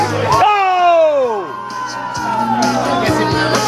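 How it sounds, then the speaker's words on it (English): Campers cheer, whoop and shout from the sidelines of a beach volleyball game, loud and close, with voices swelling over one another in a continuous crowd roar. "We gotta get the cheering section going."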